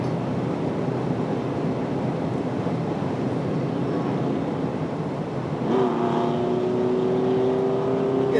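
A yellow 2004 GTO idles rough and uneven, a steady low engine drone that climbs into a stronger, tonal rumble partway through, with no one talking.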